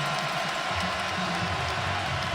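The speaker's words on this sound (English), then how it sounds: "Good noise by a small crowd." A small crowd at a Texas vs. Oklahoma State college football game in 2015 makes a steady, broad roar of cheering and noise in a partly empty stadium.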